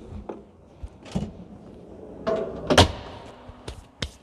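The storage locker hatch on a Globetrail 640 camper van being unlatched and shut, a series of close clicks, knocks and a louder thud of the panel closing, with a few light latch taps after.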